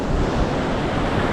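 Ocean surf rolls in along the Danish coast during October surfing, a steady, loud wash of breaking waves mixed with gusty wind buffeting the microphone, with no pauses and no voices.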